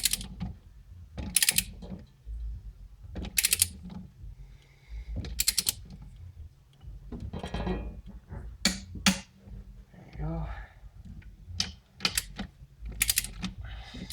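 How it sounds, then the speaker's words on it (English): A torque wrench tightening bolts to 15 foot-pounds on a Ford Ranger master cylinder, giving rapid ratcheting clicks in short close bursts separated by quiet pauses. "torque these guys to 15 foot-pounds"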